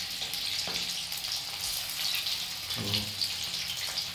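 Prawns lightly frying in a pan give off a constant close sizzle and crackle, with a brief spoken word and a few faint clunks of utensils.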